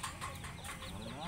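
Chickens cluck at feeding time, a few short clucks rising and falling over a low background murmur, with people talking quietly nearby.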